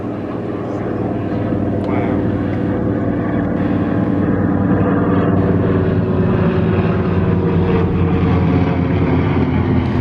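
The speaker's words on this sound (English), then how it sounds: "The Avro Anson from there just flew over" A vintage Avro Anson aircraft flies low overhead at a classic car and transport festival, its loud, steady propeller engine drone filling the air throughout, with people talking underneath.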